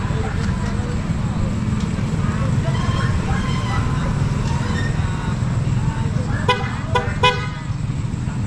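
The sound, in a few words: PIAA horn honking on a TMX 125 motorcycle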